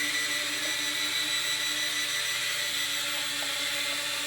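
A mini RC quadcopter drone hovers close by, its tiny rotors giving a steady, loud high-pitched buzz that holds unbroken throughout, with no talking.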